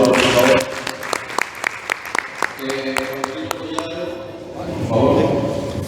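Applause at a Spanish-language municipal reform forum, with sparse individual claps growing into a short burst and then fading, while voices talk over it and murmur in the background.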